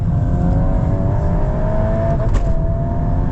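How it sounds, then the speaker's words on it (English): A 2026 Volkswagen Golf R's 2-litre turbocharged engine drones steadily from inside the cabin, a rising whine over a low exhaust rumble, with a brief whoosh near the end. "you've got this really aggressive 2-litre turbo engine sound from behind the wheel"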